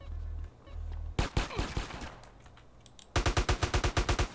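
Gunfire in GTA San Andreas: scattered single shots and bursts, then a rapid, loud machine-gun-like volley of evenly spaced bangs at the end, with low engine hum beneath.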